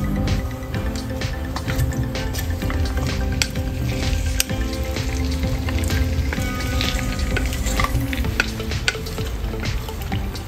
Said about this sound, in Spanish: lo que queremos es pochar las patatas